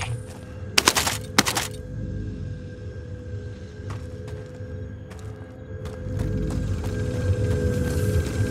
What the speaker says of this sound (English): Notice supply boxes make a distinct sound when you fly.